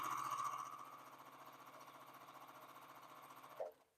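A sewing machine stitches quilt border pieces together in a fast, steady mechanical run that slows and stops abruptly with a final clunk, close and alone.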